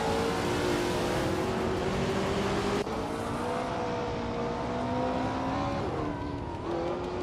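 Engines of vintage 1969 Porsche 908/2 Spyder race cars in a racing video game at Circuit Paul Armagnac, a loud continuous layered roar with rising and shifting revs as the field gets away, no talk.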